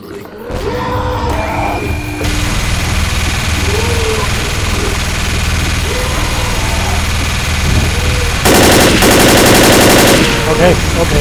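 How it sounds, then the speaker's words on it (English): Sustained machine gun fire in the zombie shooter game Left 4 Dead, a dense rattling burst running almost continuously, with a harsher, louder stretch near the end over a low engine-like rumble. "Machine gun, machine gun."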